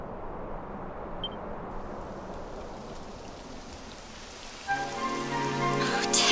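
Rain falls in the video game Dragon Quest XI as a steady, even hiss of pattering drops, and a sustained tonal sound comes in over it near the end.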